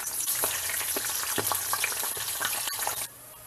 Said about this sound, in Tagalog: Piprito na natin ngayon dito yung ating chicken skin.